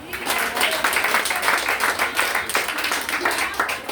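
A church congregation claps and applauds in praise of Jesus, a dense, continuous wash of many hands lasting throughout, loud and close, with a few louder bursts rising and falling.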